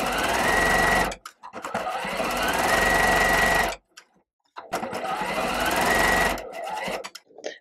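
A sewing machine stitches pieces of quilt fabric together, whirring loudly and steadily up close in two long runs with a brief pause between them.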